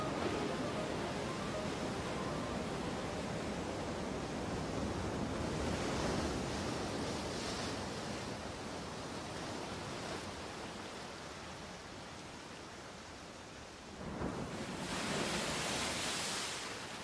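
Ocean waves and surf roar continuously as a broad, steady wash of noise with gentle swells, loud and close, with a fresh surge of breaking water near the end.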